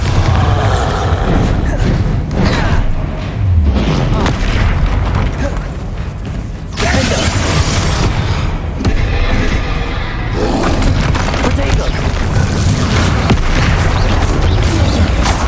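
Explosion spells cast in Hogwarts Legacy burst in a rapid, nearly unbroken string of loud booms and blasts, with a voice calling out over the din throughout.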